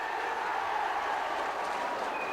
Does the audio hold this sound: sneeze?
no